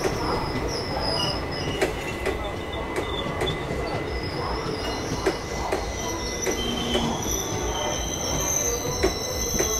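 The 13173 Sealdah–Agartala Kanchanjungha Express runs steadily on the rails, its wheels screeching in high piercing tones over a constant rumble and periodic clacks of the track joints.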